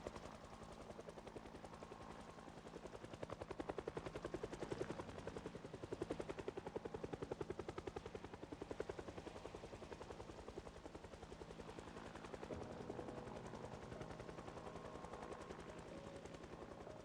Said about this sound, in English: You can definitely hear it. The heli is not quiet.